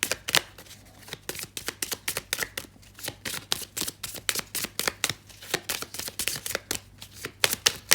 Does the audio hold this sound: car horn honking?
no